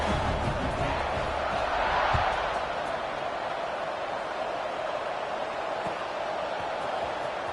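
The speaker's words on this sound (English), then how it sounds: "this crowd is buzzing after that last score" A football stadium crowd buzzes after a score, a broad steady roar that swells slightly early on and then holds at an even, distant level.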